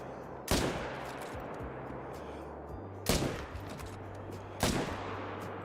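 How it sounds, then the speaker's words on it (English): Rifle shots in a hunting video game: three loud, sharp reports spaced a few seconds apart, each with a short echoing tail over a quiet outdoor background. "Man, missed the last shot"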